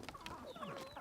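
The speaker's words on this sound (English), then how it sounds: "because they're chickens, they're everywhere" Chickens cluck and chatter close by in an open yard in Puerto Rico, with short overlapping calls and a few sharper squawks over about a second, heard clearly with no talking.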